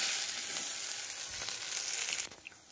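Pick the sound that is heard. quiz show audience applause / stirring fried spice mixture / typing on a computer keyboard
stirring fried spice mixture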